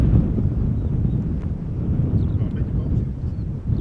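Strong 19-knot crosswind at Schiphol Airport buffeting the microphone, a continuous low rumbling roar with gusty fluctuations and faint distant aircraft noise underneath.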